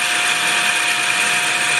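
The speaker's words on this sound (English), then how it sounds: "Now we're going to drill" A lathe drills a bore 1/32 inch undersize at 550 RPM during wheel turning. It gives a loud, steady machine whine with a constant high metallic tone, unbroken and close throughout.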